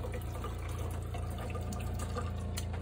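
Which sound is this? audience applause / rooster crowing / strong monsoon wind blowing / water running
water running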